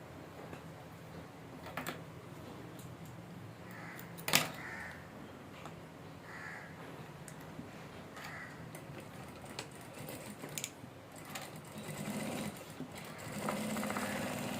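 Sewing machine stitching a fabric piece, a steady mechanical whir running under the whole stretch with a few sharp clicks, fairly quiet and close, no talking.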